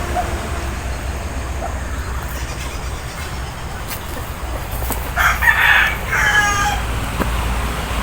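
Chickens in the distance, with a rooster crowing briefly over a constant outdoor hiss and low background rumble.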